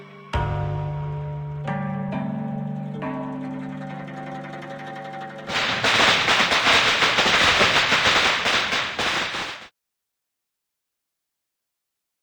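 Firecrackers burst in the video game Reverse: 1999, a dense, loud crackling run of rapid pops lasting several seconds after a sustained musical tone, then cutting off to silence.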